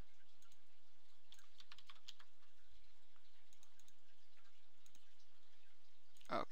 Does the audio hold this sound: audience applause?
no